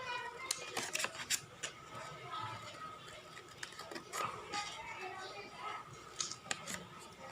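Small scissors snip through paper to shape craft bird feathers, giving quick, crisp repeated cuts close by with light rustling of paper in between.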